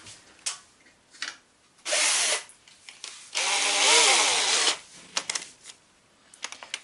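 A power drill drilling out a plastic part on a Thunder Tiger K-Rock MT4 G5 RC truck: close, loud whirring bursts of varying length, the longest about a second, separated by clicks and handling noises.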